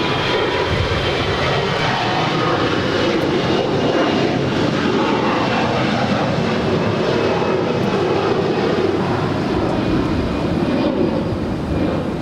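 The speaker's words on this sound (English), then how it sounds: "We've got the Lufthansa Queen rolling down 2-4 left there on the north side." Lufthansa Boeing 747 on its takeoff roll down a runway at Los Angeles International Airport, a steady, loud, broadband jet engine roar sustained throughout with no break.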